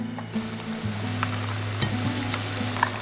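Shrimp cakes sizzle steadily in oil in a pan over the lowest flame, a continuous close frying hiss with small pops and a low hum underneath, no voices.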